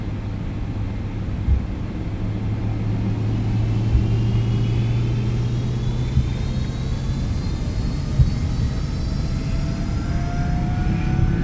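Twin engines of a Boeing 777-200LR in X-Plane 11 spool to takeoff power, a loud steady roar with a deep low rumble and a slowly rising whine, heard alone without talk.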